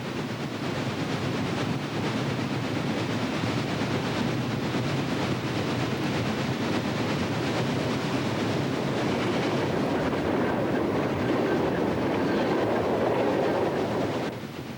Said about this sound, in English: Another coal train, this one headed up by 2329.